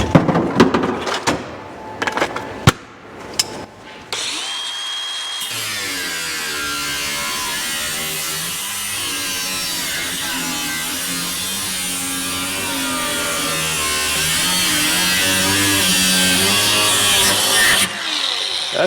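A cordless power tool cuts through old car trunk metal, a loud, steady whining grind that runs continuously for about thirteen seconds after a few short starts and knocks, with no talk over it.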